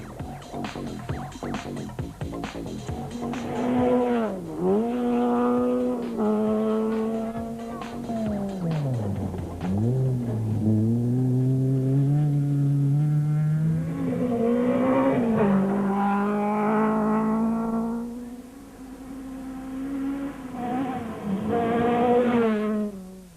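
Rally cars pound along a rough, rocky stage of the 2006 Sasol Rally, their engines loud and continuous, the pitch rising and falling as the drivers rev and shift.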